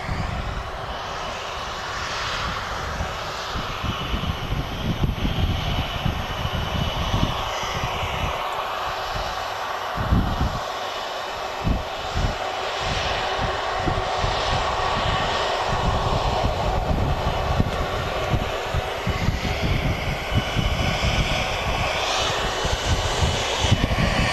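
Airbus A330 jet engines at Manchester Airport as the aircraft waits on the runway, a loud, continuous, rumbling roar holding steady throughout with no talk.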